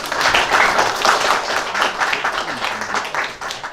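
Applause for a girls' school team at a school energy quiz competition, a steady wash of clapping from a hall audience lasting the whole stretch, fairly loud and unbroken with no clear voices on top.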